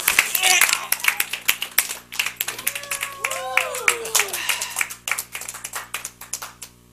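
An audience claps along in sharp rhythmic bursts during a stage trick at an entertainment show, near and fairly loud, with voices and a squealing sound mixed in.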